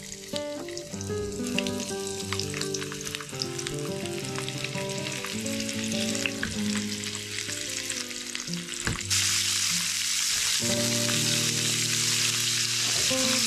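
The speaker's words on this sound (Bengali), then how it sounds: "একটা একটা করে চিংড়ি মাছগুলো ফ্রাই করে নিব।" Prawns sizzle in hot oil in a frying pan: a continuous crackling fry close up, growing louder and denser partway through, with a steady tonal background underneath.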